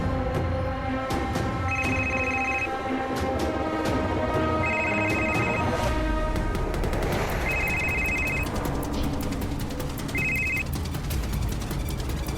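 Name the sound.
mobile phone ringing after a call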